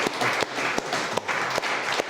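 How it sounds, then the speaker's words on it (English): A live-event audience breaks into a round of applause. A dense wash of clapping carries on throughout, with a few sharper individual claps standing out near the front. "I think that deserves a round of applause."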